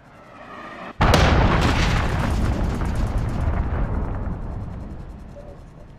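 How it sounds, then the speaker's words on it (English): A loud in-game enemy cruise missile explosion bursts in abruptly after a second of low rumble, then rolls into a long, crackling, debris-filled roar that slowly fades over several seconds. "Enemy cruise missile!"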